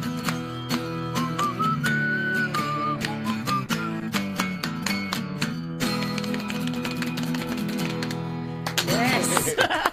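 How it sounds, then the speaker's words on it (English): A whistled solo line rides over a full band during a song, the sustained whistled notes standing out briefly above the guitars and drums. "Whistling solos."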